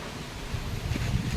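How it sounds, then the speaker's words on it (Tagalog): Steady wind buffeting the microphone in short gusts, a low rumbling roar with no voices. "Oh, lakas ng hangin, no? Humahampas talaga."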